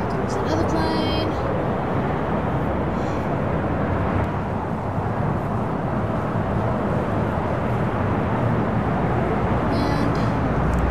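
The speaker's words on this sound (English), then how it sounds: "Here comes another plane." An airplane in the Airport CEO airport management game rumbles past with a steady, broad roar that holds evenly throughout, fairly loud and continuous with no talking over it.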